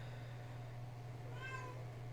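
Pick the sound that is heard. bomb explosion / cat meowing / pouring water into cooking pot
cat meowing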